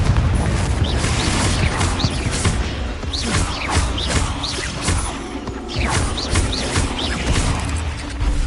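Repeated fiery blasts from the Confringo spell in the Hogwarts Legacy video game, crackling, whooshing explosions with crashing impacts that fill the clip loudly and steadily.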